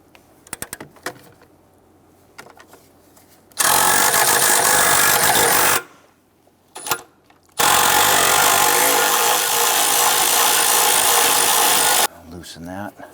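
A ratchet on an extension loosens an 8mm bolt under the intake support bracket of a 2011-2019 Ford Explorer 3.5L V6, heard as two long, loud, steady mechanical runs close by with short quiet gaps and small clanks between them.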